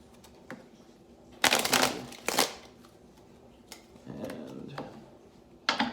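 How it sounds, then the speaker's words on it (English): Tarot cards shuffled by hand in short, crisp riffling bursts: three or four flurries of papery flicking close to the microphone, separated by quiet pauses in a still room. "3 shuffles."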